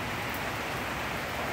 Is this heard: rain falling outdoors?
yes